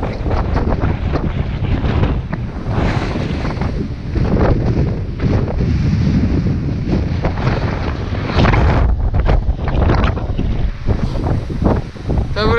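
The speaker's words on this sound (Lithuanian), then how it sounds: "vėjas tai įspūdingas" Strong wind roars and buffets the microphone on an exposed African mountain about 600 metres above sea level. The gusts rise and fall in loud, rough surges throughout, and a voice is faintly heard beneath them.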